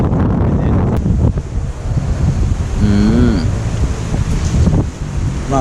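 Wind buffets the microphone in a steady roar with rough sea water surging at the shore, loud and continuous, with a brief whistling tone partway through.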